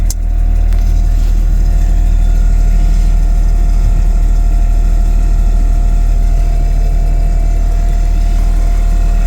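An air suspension compressor on a MK1 Golf runs continuously to fill the air tank, a loud, steady droning hum with a constant whine and no pauses.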